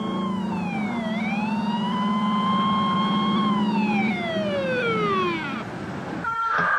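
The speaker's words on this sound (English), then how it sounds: "I remember hearing the sirens," Wailing emergency vehicle siren rising and falling in long sweeping tones, loud and steady, near a hospital, cutting off abruptly near the end.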